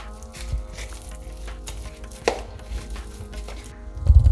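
Boiled potatoes being mashed in a bowl while preparing vegan stuffed paratha filling, heard as soft repeated squelching presses and thuds, with a cluster of louder knocks near the end and no talking.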